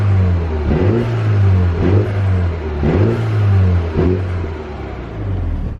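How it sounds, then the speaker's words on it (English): A car engine revs repeatedly close to the bonnet, each rise carrying a fluttering intake sound, loud and steady with about five distinct rev swells and no talk. "we get a really cool sort of like intake noise flutter. If I just stick the camera out near the bonnet and give it a wee rev."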